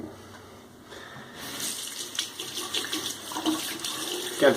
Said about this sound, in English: Rinse off real quick, a light rinse.